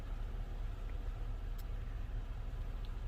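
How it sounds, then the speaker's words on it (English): Steady low road rumble and engine drone heard from the passenger seat inside a moving pickup truck, constant and even throughout with no talk. "I'm sitting in the passenger side of the pickup."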